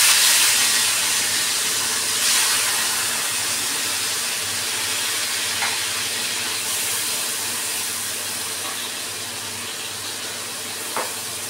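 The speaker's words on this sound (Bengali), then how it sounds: "তেল গরম হয়ে গেছে, মাছগুলো এখন দিয়ে দিচ্ছি।" Prawns frying in hot oil give a steady, close, broadband sizzling hiss that fades slightly over time, with a few faint clicks and pops and no voices.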